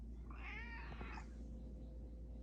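A domestic cat gives a single drawn-out meow, clear and fairly close, over a steady low hum in a workshop where a greasy string trimmer is being repaired; no one speaks.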